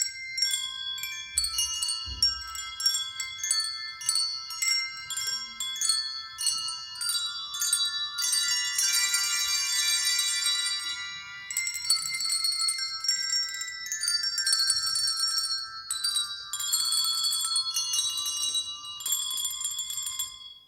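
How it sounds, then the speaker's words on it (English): Handbells played by children in a church Christmas program ring out in a steady sequence of bright, sustained tones, loud and close, with overlapping notes forming a melody and no talking. "When they get to that line on the right, you ring your bell."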